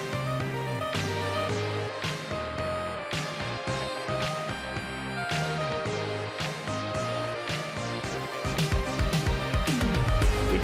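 Synthwave song with a worn VHS-tape quality, dense synths and steady beat playing throughout at moderate level with no one talking over it.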